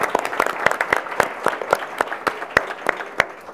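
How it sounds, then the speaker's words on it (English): Sparse audience applause for Olympic and Paralympic athletes at a women's sports day panel: scattered, distinct hand claps ringing out steadily and fairly close, with no voices over them. "Let's give our Olympian and Paralympic athletes a round of applause."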